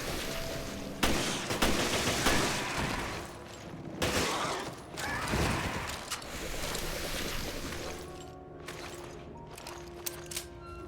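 Gunfire in the video game Resident Evil Revelations, with sharp shots in irregular bursts and reverberant booms over game ambience.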